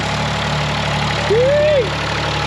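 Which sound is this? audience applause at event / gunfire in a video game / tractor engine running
tractor engine running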